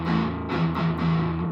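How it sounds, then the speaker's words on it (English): Distorted electric guitar playing a sustained, gritty chord pattern with slight rhythmic shifts, steady and fairly loud, no voices. "if I put a distortion on, you can hear how it sounds"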